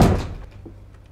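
Door slammed shut in an office, a single heavy thud at the very start that quickly fades into a low room hum.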